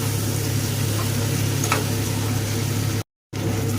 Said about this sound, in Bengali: সমস্ত মশলাকে ভালো করে কষিয়ে নিয়েছি।